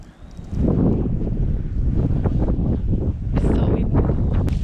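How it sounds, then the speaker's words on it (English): Strong gusting wind roars loudly and steadily during an outdoor snowstorm, buffeting the microphone with rough broadband noise throughout, while children's voices and brief excited speech come through in short bursts under it. "It's so windy."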